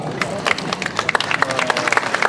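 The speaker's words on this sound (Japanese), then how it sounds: "さあ皆様、大きな拍手でお迎えくださいませ。" Audience applause welcoming performers of the Koyama-ryu Hirohide-kai onto the stage at a Narita string-instrument festival: dense crowd clapping with sharp individual claps throughout, steady and moderately loud.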